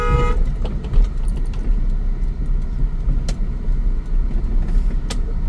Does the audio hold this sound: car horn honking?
yes